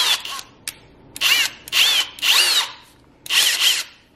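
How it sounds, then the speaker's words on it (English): A power drill fitted with a larger bit bores through a glass jar's metal lid, running in four or five loud whining bursts of about half a second each, separated by short pauses, with no talking. "I'm gonna do my drill again, but you guys, I am going to put my larger drill bit in"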